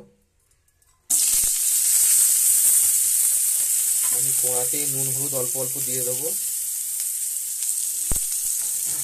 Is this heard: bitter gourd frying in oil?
yes